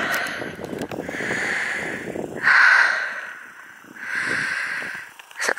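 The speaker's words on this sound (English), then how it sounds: "Yeah, some sort of bird, isn't it?" Harsh, raspy crow-like caws repeat a few times nearby, in drawn-out calls separated by brief pauses.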